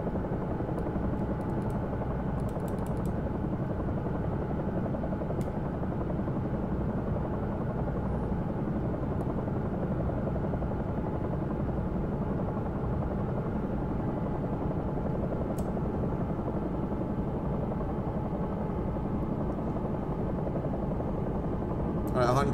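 A simulated Bell 222 air ambulance helicopter in X-Plane 11 drones steadily with constant rotor and turbine noise throughout, loud and unbroken, while a voice talks over it at times.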